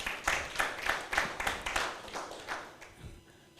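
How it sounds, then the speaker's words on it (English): A small audience at a pharmacists' association inauguration of new executive members claps in loose, uneven bursts at moderate distance, fairly faint and fading toward the end, with no one speaking over it. "a round of applause for all of us"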